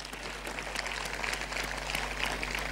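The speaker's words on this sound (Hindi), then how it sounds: "जोरदार तालियों के साथ" Steady audience applause at a school Founder's Day event, a continuous dense clapping throughout at moderate loudness.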